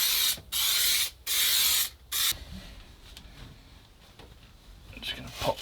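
Three long hissing bursts from a spray adhesive can inside a camper van, close by, separated by brief pauses, followed by quieter handling noises and a voice.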